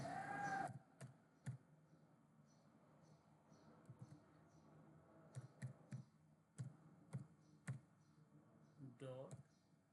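Python code being typed on a computer keyboard: scattered bursts of close, sharp key clicks with pauses between them, after a short stretch of speech at the start and a brief voice near the end.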